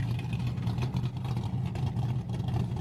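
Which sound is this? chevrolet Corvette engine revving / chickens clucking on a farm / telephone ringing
chevrolet Corvette engine revving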